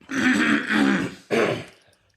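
A man clears his throat close to the mic in two rough, gravelly bursts, the second shorter, in a quiet indoor podcast setting.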